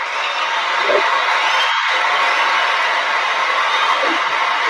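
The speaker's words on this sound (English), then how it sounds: "I'm gonna clap it up for that." A crowd in an audience claps and cheers, a steady, broad roar of clapping and whooping held at an even level throughout, with a few brief vocal shouts poking through.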